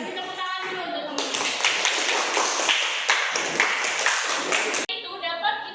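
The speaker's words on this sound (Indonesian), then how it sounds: "Kasih tepuk tangan dulu untuk teman-teman." Classmates clap their hands together in a classroom, a lively burst of quick, close claps lasting a few seconds, framed before and after by a teacher's voice speaking.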